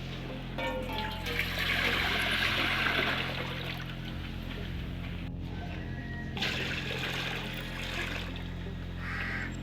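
Water is poured into a pot to be boiled for chicken biryani rice, making a steady splashing trickle in a kitchen with a low background hum and outdoor crow calls, no talk.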